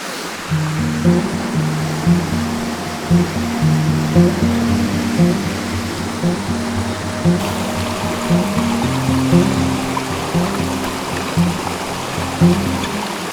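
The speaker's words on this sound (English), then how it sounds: "a nice water flow coming in the background" Water pours steadily into a pool outdoors, a constant rushing wash with a soft burbling texture that stays even and close throughout, no voices over it.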